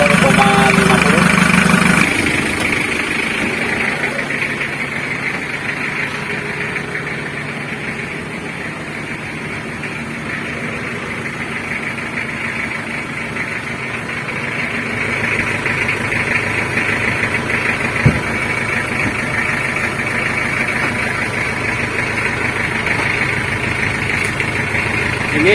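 Rebuilt Mitsubishi L300 diesel engine idling steadily with a low, even rumble close by, a brief louder burst at the start, while someone speaks over it.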